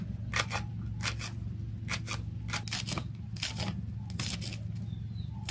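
A kitchen knife chops a chile into small cubes on a cutting board, about a dozen crisp close clicks and taps in an uneven rhythm over a low steady background hum.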